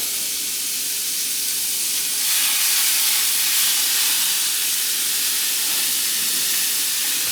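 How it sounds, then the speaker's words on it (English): Ground beef sizzles in a hot cast iron skillet, a steady, bright hiss of frying that swells slightly partway through and continues alone without talk. "Listen to that sizzle, doesn't that sound good?"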